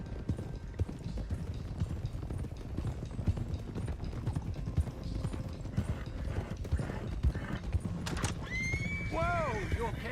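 Horses clip-clop along a trail in the Western video game Red Dead Redemption 2, hooves thudding steadily under game ambience, then a horse gives a loud, wavering neigh near the end; no talk is heard.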